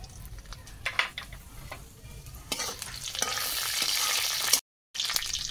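Dried red chillies, mustard seeds and five-spice are tempered in hot oil with a crisp, spitting sizzle. Stirring scrapes and crackling bursts swell midway before a short drop to silence, then the sizzling resumes.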